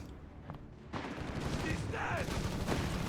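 Gunfire from a .30 cal machine gun in the strategy game Company of Heroes 3, shooting at Grenadier infantry; dense, continuous bursts and battle noise fill the scene, growing louder after the first second.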